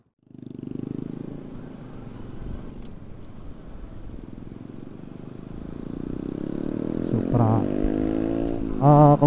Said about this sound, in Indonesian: Supra X pakai racing. Knalpotnya, Bray.